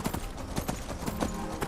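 Horse hooves gallop in Skyrim with a steady, rhythmic clip-clop of repeated hoofbeats, close and moderately loud throughout.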